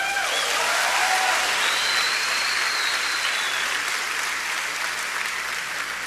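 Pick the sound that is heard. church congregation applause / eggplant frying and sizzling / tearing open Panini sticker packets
church congregation applause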